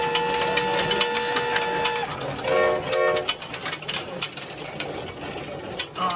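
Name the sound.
1940 Peltier Peewee marble-making machine running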